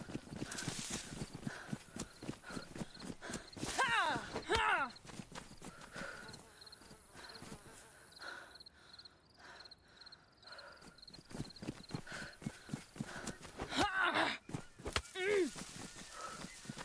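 Horse hooves clip-clop in a steady walking rhythm, close and clear, with a whinny-like call and voices talking over parts of it.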